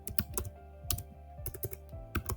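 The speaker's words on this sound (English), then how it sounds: "I'll clear the log and I'll type run the file python space" Rapid keystrokes on a computer keyboard while a command is entered in a terminal, a quick irregular run of close, crisp clicks with short pauses between bursts.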